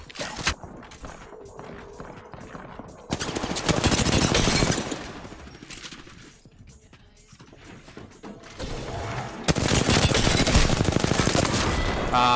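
Bursts of Apex Legends gunfire in two dense, loud stretches of rapid automatic shots, with a quieter lull between them and a scattering of single shots and footsteps at the start.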